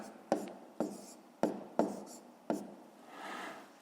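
A pen writes numbers on paper for a fifth-grade multiplication exercise, five sharp taps and short strokes spaced out, then a softer scratching stroke, close and quiet with no talking.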